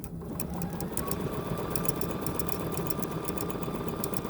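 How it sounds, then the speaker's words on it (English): A domestic sewing machine running at its default setting, stitching a small decorative tulip pattern, giving a steady, fast mechanical whirring with rapid rhythmic needle clicks, close and uninterrupted. "this is at the default setting on the sewing machine"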